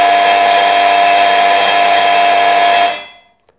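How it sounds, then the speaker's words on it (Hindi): An electric school bell buzzer rings loud and close as one continuous harsh metallic buzz for about three seconds, then cuts off abruptly into silence. "दूसरे नंबर के ऊपर ये बज़र जब ऑन हुआ है"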